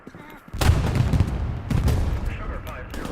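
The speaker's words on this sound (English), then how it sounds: "Was that a grenade just came in there?" A grenade explodes in Hell Let Loose, the World War II shooter, arriving as a sudden loud blast that gives way to a dense, rumbling wash of battlefield gunfire and noise, with voices faintly underneath.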